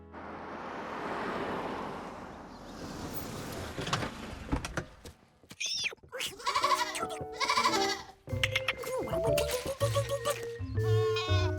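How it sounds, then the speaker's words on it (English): Cartoon goats in a Curious George episode bleat several times, loud and close, after a soft surf-like whoosh, with music and sound effects around the calls. "At least the goats couldn't escape from his room."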